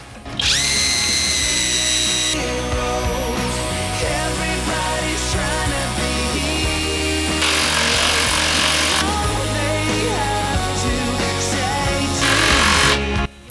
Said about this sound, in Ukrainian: давайте, друзі, спробуємо по традиції, як закручує 350-й глухарь